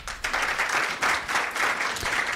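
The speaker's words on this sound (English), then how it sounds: "Please clap for that." An audience applauds at a data conference opening session in Africa, a fairly soft, steady wash of clapping with slight swells and no speech over it.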